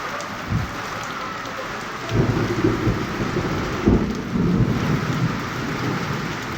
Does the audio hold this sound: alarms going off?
no